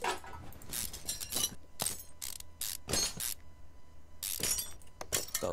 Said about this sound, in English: Radiator fan, and get this belt tensioner off.